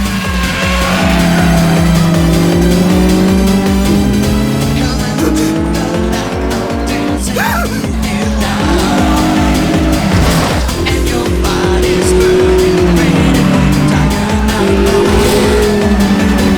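Toyota AE86 racing car cornering hard on a mountain road, tires squealing in long sustained wails over a loud, continuous engine drone with music playing throughout.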